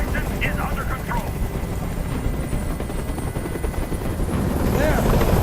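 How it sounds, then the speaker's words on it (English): A helicopter hovers in the video game Detroit: Become Human, its dense rotor roar steady and loud throughout, with muffled voices beneath it. "Tell a helicopter to get out of here!"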